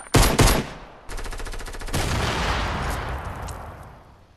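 Gunfire from a shotgun and pistol in the video game Fortnite: two loud, close blasts in quick succession, then a rapid rattling burst and a long, rushing roar of shots that slowly fades.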